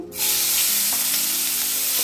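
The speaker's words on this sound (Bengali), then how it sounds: "একটাই পেঁয়াজ নিয়েছি। এটাকেও দিয়ে দিলাম ভাজার জন্য।" Onion paste from a single medium onion hits a hot pan and frying starts abruptly after a brief quiet moment, then holds as a loud, steady, close sizzle.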